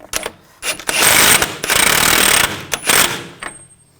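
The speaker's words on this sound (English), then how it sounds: "Put the axle nut on. And I'll tighten this down." A 2000-2006 BMW X5 front axle nut is driven tight with an impact wrench during a lower ball joint replacement: several loud, close rattling bursts, each lasting about a second, separated by brief pauses.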